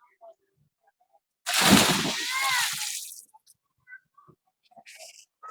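A big splash as someone jumps into water at a swimming spot in Cavite, Philippines, a loud burst of spray and sloshing lasting about a second and a half and then settling, with scattered voices before and after.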